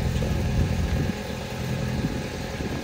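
A Murray garden tractor engine runs steadily at a low, even drone while being shifted into reverse, close and continuous, with no clear clunk standing out.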